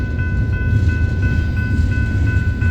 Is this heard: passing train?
yes